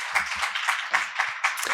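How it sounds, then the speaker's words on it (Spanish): Applause from an audience at a panel event on women's leadership in the tech industry, for an academic host, with uneven individual claps close by, fairly loud and steady. "por favor, gran aplauso para ella porque es dueña de casa"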